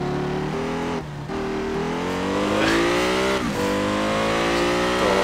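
Lexus LFA V10 engine in the racing game Need for Speed Shift 2 Unleashed, revving hard through rising gear pulls with quick shift dips, loud and continuous.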